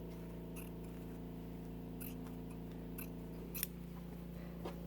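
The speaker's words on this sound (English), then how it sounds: "I'm just going to trim up this batting a little bit closer to the fabric" Scissors trimming quilt batting close to the fabric of a sewn fabric box, producing a series of crisp, close snips spaced about a second apart over a faint steady hum, with no talking.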